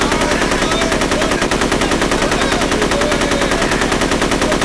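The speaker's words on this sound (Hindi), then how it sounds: "ऊपर से तुम लोग गोली चला रहे हो" Loud, rapid bursts of automatic gunfire repeating in a fast, unbroken rhythm throughout.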